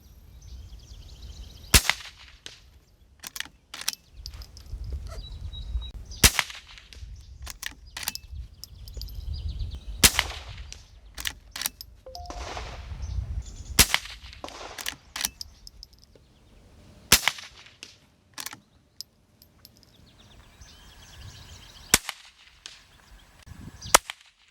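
CCI .22 Quiet long rifle rounds fired at a range, a series of sharp, fairly soft cracks spaced several seconds apart, each one brief and close, with faint clinking and handling noise between shots.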